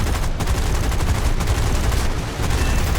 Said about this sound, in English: a guy behind me shooting at me as well